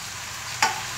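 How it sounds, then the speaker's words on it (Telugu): Onions frying in a pan for a Telugu curry, with a steady hiss and sizzle that flares sharply for a moment as tomatoes drop in, then settles back to a softer crackle. "ఇప్పుడు టమాటాలు వేస్తాను."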